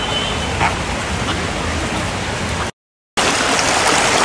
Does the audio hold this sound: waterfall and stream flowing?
yes